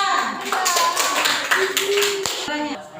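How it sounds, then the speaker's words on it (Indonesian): Students in a classroom clap for a group about to present, a scattering of hand claps mixed with lively children's voices talking and calling out over it. "Tepuk tangan dulu untuk kelompok 2"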